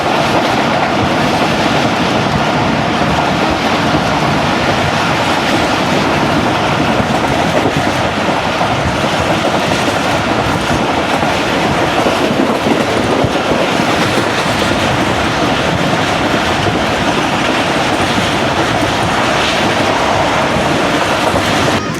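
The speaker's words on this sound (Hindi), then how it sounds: "ट्रेन तो दोस्तों दौड़े लगा रही थी" Musa Pak Express passenger train running at speed between Multan and Lahore, a loud, continuous rumbling roar with rhythmic clickety-clack of wheels over rail joints and no talk.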